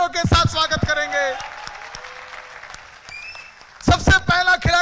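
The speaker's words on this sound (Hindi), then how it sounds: "जोरदार तालियों के साथ स्वागत करेंगे" An audience at an RCM business training session bursts into applause to welcome players for a game. The steady, moderate clapping sits between stretches of someone speaking at either end.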